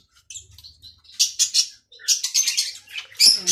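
Lovebirds and finches in an aviary breeding setup give a burst of close, high, rapid chirps and tweets, with some wing flutter between the calls.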